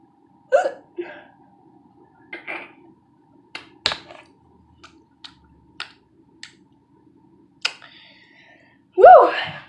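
A person hiccups repeatedly, the sharp, brief gulps coming at irregular intervals amid soft clicks and small mouth noises, ending with a louder vocal burst; close and otherwise quiet.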